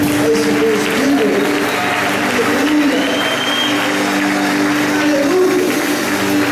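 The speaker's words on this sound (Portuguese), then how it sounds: "Você pode aplaudir a esse Deus lindo" A church congregation applauds during a Sunday celebration service, a steady sustained wash of clapping with murmured voices and tonal hum beneath, fairly loud and continuous throughout.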